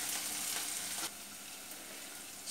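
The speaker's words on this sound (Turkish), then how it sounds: "Şimdi 2-3 dakikada bu şekilde kavuracağım." Steady loud sizzling of green beans and vegetables sautéing in olive oil in a pan, which drops to a softer hiss partway through, with no talking.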